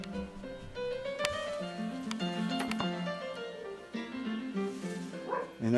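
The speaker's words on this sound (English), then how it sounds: "I know you can hear that dog up there" A dog barks somewhere up the hill: a handful of distant, moderately faint barks and yips over a quiet background, with no nearby voices.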